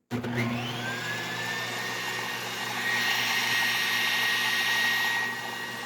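Food processor attachment on a stand mixer with its blade spinning: a steady whirring motor starts abruptly, holds a constant high whine with a slight rise midway, then eases off near the end, no voices.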